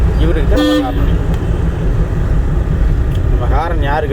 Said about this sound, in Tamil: இவருக்கு தான் நம்ம ஹாரன் அடிக்கணும்.